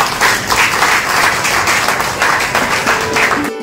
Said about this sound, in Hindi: तो इसलिए इनके लिए जोरदार तालियां।